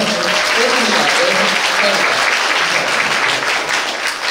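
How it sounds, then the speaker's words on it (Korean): Loud, dense applause from a forum audience at an AI event, sustained and steady across the whole stretch with no pauses. "이럴 때 박수를 크게 치시고요."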